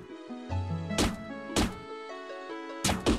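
Arrows shot from a bow in the video game Sleeping Solatia, three sharp thunking releases over a quiet melodic game soundtrack with sustained tones.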